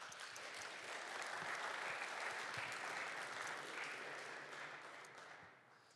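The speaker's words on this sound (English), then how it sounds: "Please give a round of applause for our partners" Conference audience applauding at an anniversary event, a steady dense wash of many hands clapping at moderate volume that fades toward the end.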